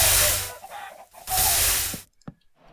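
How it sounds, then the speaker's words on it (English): Chickens clucking in a video game, kept as pet chooks inside a built enclosure; two loud, dense bursts of fowl noise separated by a short gap, then near silence with one faint click. "there's too much clucking if you have it built like that"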